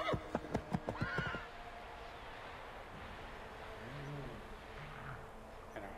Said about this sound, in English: And our horses just ran off.